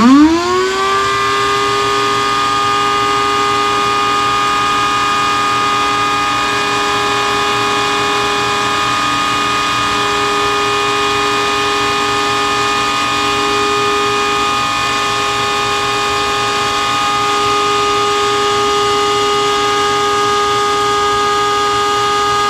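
A Peak Stealth 3 horsepower shop vacuum runs steadily on an inverter, a loud, continuous motor whine with strong harmonic tones that rises briefly at start-up, then holds unchanged throughout, with no talking.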